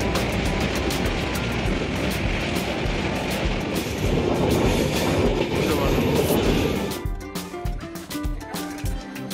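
The Himgiri Express rumbles along a rail line crossing the dry Ravi riverbed on the way to Kathua, with loud, continuous wheel clatter that drops off sharply near the end.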